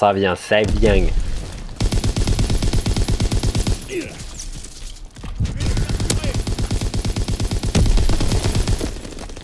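Sustained automatic fire from a Lewis light machine gun in Call of Duty WW2 multiplayer: loud, rapid, evenly spaced shots in long bursts, broken by a brief pause and ending with a short trailing burst.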